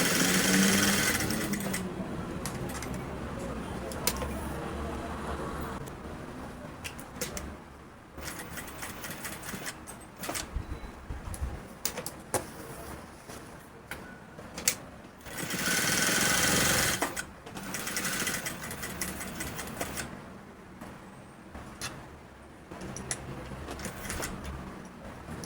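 A sewing machine stitches a welt pocket in loud, steady whirring runs, stopping and restarting several times with brief pauses between bursts.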